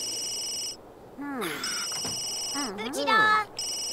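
A cell phone rings in The Sims 3 as a repeating electronic tone in bursts, broken by simlish chatter from game characters with warbling voices.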